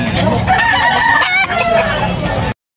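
A rooster crows loudly and close at a fowl market in Tabunok, Talisay, Cebu, a long drawn-out call with another crow overlapping, over a busy background of other fowl.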